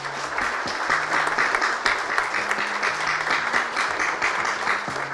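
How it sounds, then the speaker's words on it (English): An audience at a Rotary District 2485 gala night in Prishtina applauds a district member, with dense, loud, continuous clapping throughout and a faint low tone running beneath it. "I would like them just to raise, and we will applaud them"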